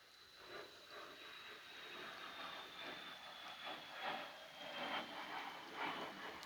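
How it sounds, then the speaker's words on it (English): An airplane passes overhead in a quiet forest, heard as a faint, steady hiss and broad rumble with a thin high whine. The sound swells slowly and holds over several seconds, with no one speaking. "just gonna let that plane fly by."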